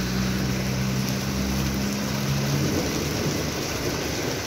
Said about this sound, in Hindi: सिर्फ बारिश ही नहीं है, छोटे छोटे ओले भी पड़ रहे हैं